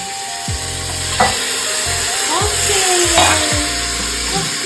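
Mutton for pulao is sautéed in a pan, a loud continuous sizzle with a few spatula scrapes and a knock or two, close up, alongside faint higher-pitched squeaks.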